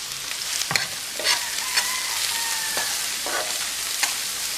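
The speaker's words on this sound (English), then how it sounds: "So I just want to cook up all of my seasoning" Seasoning cooking in a pot for brown stew veggie chunks, with a strong steady sizzle of hot oil and a few clanks and scrapes of a spoon stirring, close up.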